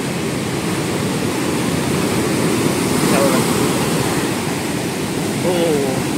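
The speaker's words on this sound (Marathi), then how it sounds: "ह्या लाटा आहेत त्या बंधाराला आपटून अशा आतमध्ये" Rough sea waves crash against a seawall at Ganpatipule on the Konkan coast, making a steady, loud, broad roar of surf with a brief faint voice showing through it.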